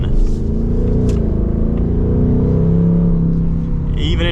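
A 2024 Ford Mustang GT Premium V8 accelerating on the road in automatic normal mode, a deep steady engine drone rising slightly in pitch, heard from inside the car, loud and continuous.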